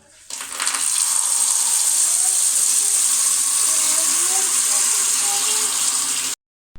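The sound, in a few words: hot water being poured for cleaning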